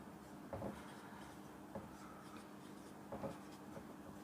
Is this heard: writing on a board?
yes